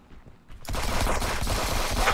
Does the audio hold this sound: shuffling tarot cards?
no